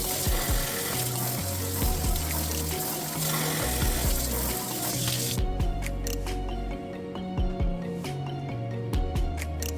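Lladro porcelain knick-knacks hand washed under a running tap in a sink, with steady water flow, splashing and wet squishing, then irregular drips and clinks as the stream stops.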